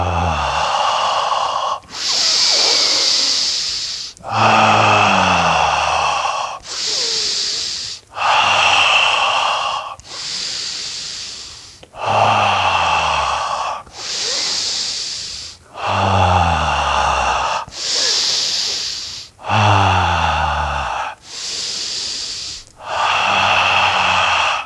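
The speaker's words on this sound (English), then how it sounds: "Take a breath in. Hold the breath for a moment" Deep breathing exercise in a tantric practice: about a dozen long, loud inhales and exhales in steady alternation, close and airy with some nasal snort-like edges, alone without speech.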